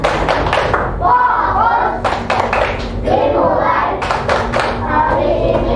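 A classroom of children performs a rhythmic group clapping routine, bursts of hand claps and taps on desks repeating in short patterns while kids' voices chant and call out over them at close range.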